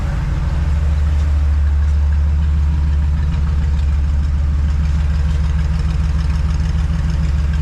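A 1954 Chevy engine converted to HEI ignition with a four-barrel carburetor, idling at about 750 RPM: a loud, steady, low rumbling idle that holds even and unbroken from start to finish, close to the engine, with no voices.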